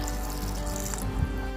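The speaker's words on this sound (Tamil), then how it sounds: "கொஞ்சம் தண்ணி ஊற்றிக்கலாம்" Water pours steadily into a pot of lentils for village-style paruppu kuzhambu dal, a continuous close splash and trickle that runs throughout.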